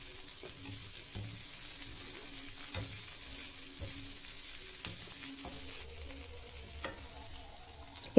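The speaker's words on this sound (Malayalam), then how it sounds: "ഒരല്പം കായത്തിൻ്റെ പൊടിയും കൂടി ചേർത്തൊന്ന് ചെറുതായിട്ടൊന്ന് വാട്ടിയെടുക്കാം" Urad dal and mustard seeds sautéing with asafoetida in a pan for a Kerala snack, a steady close sizzle broken by regular scraping strokes of a spoon, with no voices.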